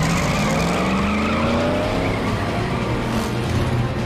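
Cartoon race cars with twin carburetors roar and skid, engines whining with rising pitch and continuous tire squeal, loud and close throughout with no talk.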